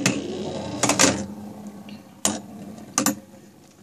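Beyblade spinning tops Unicrest and Doomsizer clash in a stadium, a steady metallic whir broken by several sharp, close collisions against the rim.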